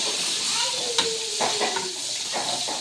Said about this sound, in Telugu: ఈ ఆయిల్లోనే మనం ఎండి చేపలు కూడా వేయించుకోవాలన్నమాట